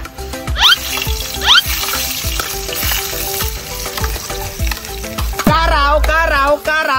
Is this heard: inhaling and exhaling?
no